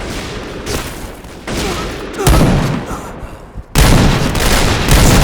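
Gunfire in a shooting video game: loud, dense volleys of shots in several bursts separated by short gaps, each burst roaring up abruptly, close and heavy with no clear talk.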